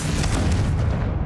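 Confringo fire spell exploding in the video game Hogwarts Legacy: a loud, dense blast with deep rumbling low end that fills the whole moment, sustained rather than a single crack.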